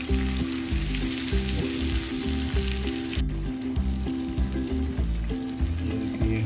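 Chicken pieces fry on a flat tawa over a low flame, a steady close sizzle with a faint crackle that carries on evenly from start to finish with no talking.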